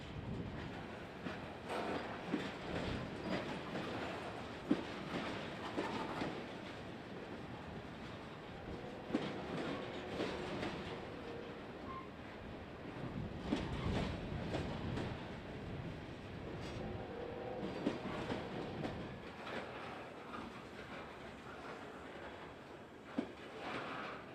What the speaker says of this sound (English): Note the eclectic array of old hoppers on the train today.